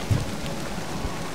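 A rainstorm in the video game Medieval Dynasty, with steady rain hiss and a brief low rumble of thunder near the start, heard alone.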